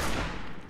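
A gunshot burst rings out in the video game Fallout 4, a short muffled blast with a quickly decaying rumble, faint and under a second long.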